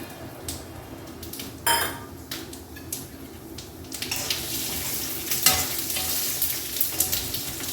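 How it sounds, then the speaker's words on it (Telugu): Cumin and fenugreek seeds frying in a pan for a tamarind roti chutney, a soft sizzle with intermittent spoon scrapes and clinks, growing busier toward the end, no speech. "ఇప్పుడు దీంట్లోనే జీలకర్ర, మెంతులు వేసేస్తాను."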